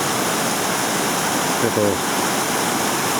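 Water pours steadily over Cray Hill weir on the River Swale, a continuous broadband rush close by, with a brief snatch of speech partway through.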